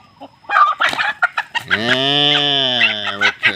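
Chickens cluck in quick bursts close by, then one lets out a long, loud drawn-out call before the clucking resumes.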